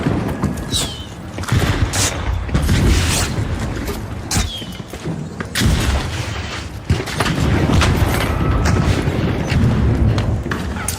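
A frag grenade blast in The Finals, a booming explosion amid a busy run of repeated loud impacts and gunfire-like bursts throughout a noisy combat scene.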